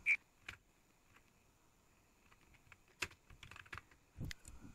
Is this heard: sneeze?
no